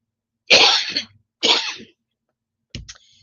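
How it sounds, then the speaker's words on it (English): Two loud, harsh coughs in quick succession, followed after a pause by a short, fainter throat sound. "Let me cough just a second."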